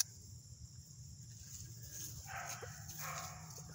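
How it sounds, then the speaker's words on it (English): Seven-week-old puppies whimper and give soft, high yips, quiet and a little distant, in short clusters over a low background hum. "these are the Sunny Guinness puppies. They are about 7 weeks old."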